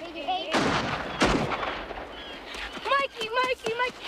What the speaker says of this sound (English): did that sound like gunshots?